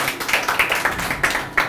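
A live audience at a Hindi poetry recital (kavi sammelan) claps together, a steady wash of many hands with a few sharper bursts, fairly close and filling the moment with no voices over it.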